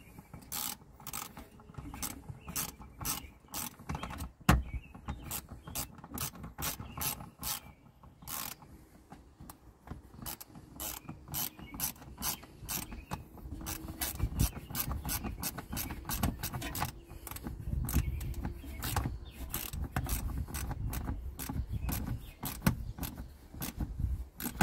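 A ratchet tightens the bolts of a Tuffy Security folding armrest inside a Toyota FJ Cruiser, giving rapid close clicking strokes over a steady low mechanical hum, with no talking.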